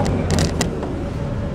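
Brief mechanical clunks and creaks of a gear change in a Triumph TR3 sports car, a few close knocks early on over steady low engine and road rumble.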